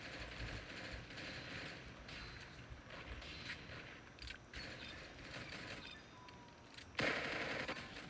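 Gunfire in the Roblox shooter Arsenal, rapid repeated shots crackling over busy game noise throughout, with a louder burst near the end.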